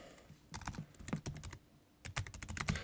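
Fingers tap quickly on a computer keyboard in two short bursts of crisp, close clicks with a brief pause between, no voices.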